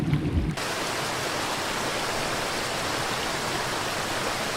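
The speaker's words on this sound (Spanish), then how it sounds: "Entre la niebla y el rugido de la cascada" A roaring waterfall pours in a dense, constant rush of white-noise-like water sound, loud and unbroken after a brief quieter start.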